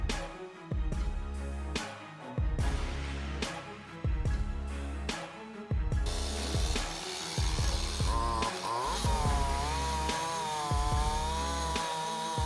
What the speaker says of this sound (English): The chainsaw roars, slicing through thick wood like it's nothing.